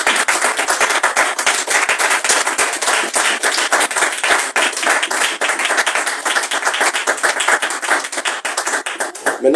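A church congregation applauds in praise of the Lord with dense, sustained clapping that stays loud and steady for nearly ten seconds, with no pause in the crowd's hands.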